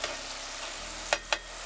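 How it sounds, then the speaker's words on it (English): A batch of french fries fries in hot oil with a steady, fairly quiet sizzle, broken near the end by two brief sharper crackles. "I'll put on another batch of fries because my children, they can really chow down on some fries."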